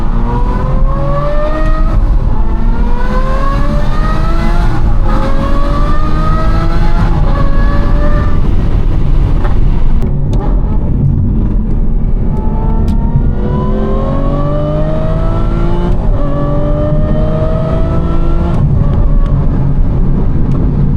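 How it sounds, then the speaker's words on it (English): An Aston Martin V12 Vantage accelerates hard, engine pitch climbing repeatedly through several gear changes, loud and close, with a brief lift midway before pulling again. "We're gonna do one acceleration here."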